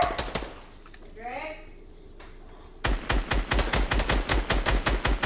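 Rapid bursts of gunfire in Fortnite, a short volley early on, then after a quiet stretch with a rising synth tone, a sustained loud string of evenly spaced shots that runs to the end.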